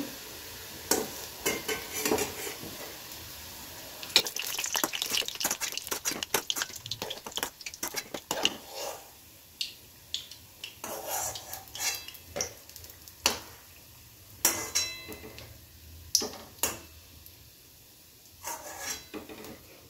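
Sweet potato puli frying in oil in a home kitchen, with repeated sharp utensil scrapes and clinks against the pan over a faint background sizzle, close and fairly clear, with no talking.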